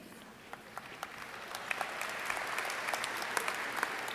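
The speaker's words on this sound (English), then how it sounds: "It's hard not to clap," Scattered claps build into steady applause from a crowd, growing fuller and louder over a few seconds, with no speech.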